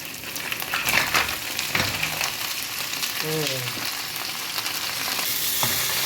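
Crabs fry in a pan with a bright, constant sizzle, joined by occasional scraping and clattering from stirring and a short squeak partway through.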